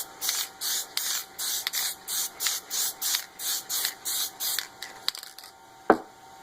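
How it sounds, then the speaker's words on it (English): Short bursts of an aerosol clear coat spray onto a wooden hammer hiss in a steady rhythm, about a dozen close puffs, followed by a light knock and quiet. "apply a clear coat to seal the grain of this wood"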